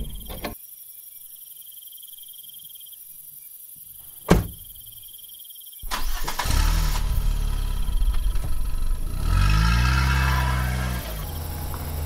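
At night in a quiet spot thick with crickets, a car door thuds shut, then an engine turns over and revs, rumbling loudly as the car pulls off and drives away.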